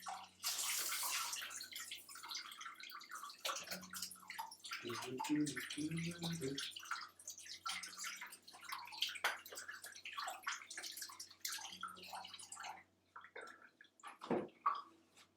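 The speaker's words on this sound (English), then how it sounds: "So if I just wash my hands quickly." Hands are washed quickly under a running kitchen tap, with water splashing and gurgling into the sink for several seconds, near and steady, then briefly stopping before a final splash.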